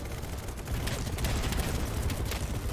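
Dense, continuous gunfire in the video game Battlebit, overlapping distant and near shots forming a loud, steady fusillade throughout.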